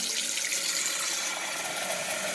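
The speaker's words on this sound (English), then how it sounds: "So I am adding the water to the huge pot." Tap water pours steadily into a huge pot for homemade root beer, a continuous broad rushing hiss that stays close and even throughout with no voices.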